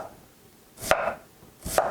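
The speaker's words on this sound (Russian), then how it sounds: "А я сейчас начну резать лук и прямо отправлять его на сковороду" Two sharp knife chops through an onion on a cutting board, spaced about a second apart, close and fairly loud with quiet in between.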